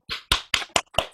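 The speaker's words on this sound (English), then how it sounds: "I think we'd have another round of applause." Audience applause after a set of readings, heard as five short, separate bursts of claps spaced evenly, fairly close and moderately loud, with no talk over them.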